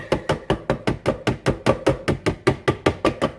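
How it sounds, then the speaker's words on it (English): A food processor churns cream into butter, a steady run of close, rhythmic thumping pulses, about five per second, with the solid mass knocking around the bowl. No voices are heard. "We're going to put this here in our food processor again."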